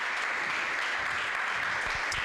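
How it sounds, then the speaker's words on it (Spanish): A brief burst of congregational applause at a Spanish-language church service, a dense, even patter of many hands clapping at moderate volume with no voices over it. "Dale un aplauso a Él si lo crees"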